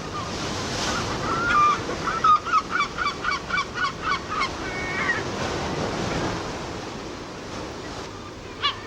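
Gulls calling by the shore along the Camino de Santiago, a loud series of repeated rhythmic honking cries over steady surf and wind, with no talk.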